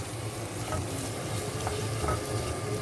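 Shrimp shells sweating in a pan over very low heat for a shrimp stock, giving a steady, soft sizzle and crackle that continues evenly throughout without any talk.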